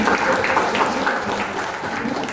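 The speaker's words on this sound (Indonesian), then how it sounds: "Boleh tepuk tangan untuk kita semuanya." Audience of Dharma Wanita women's association members applauding at a district meeting in Sumbergempol, steady moderately loud clapping throughout with faint voices mixed in.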